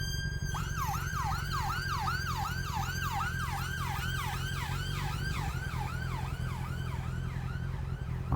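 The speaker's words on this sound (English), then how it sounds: "I haven't heard a siren like that in years." An emergency vehicle siren wails in a steady, rapid up-and-down cycle, loud and continuous over low road rumble, sounding close by throughout.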